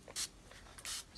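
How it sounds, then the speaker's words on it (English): A spray bottle misting water onto ink on paper: two short, soft hissing bursts separated by a quiet pause, close by and otherwise near silent. "you can take a spray bottle and give it a little help"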